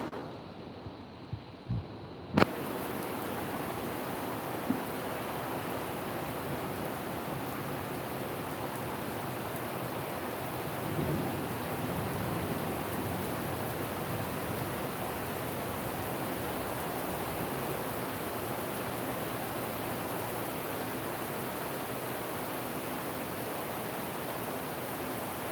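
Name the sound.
rain storm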